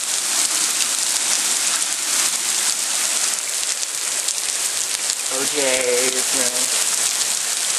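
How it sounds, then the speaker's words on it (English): Heavy rain pouring down in Georgia, a dense steady hiss of drops hitting surfaces, with a person briefly talking partway through. "Rain every day in Georgia"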